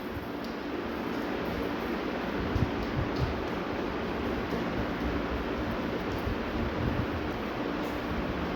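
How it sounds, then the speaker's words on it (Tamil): Tamarind water boiling in a pot for drumstick sambar gives a steady, dense bubbling hiss, even and continuous at close range with no talk. "பாருங்கள், புளி தண்ணி கொதிச்சிருச்சு."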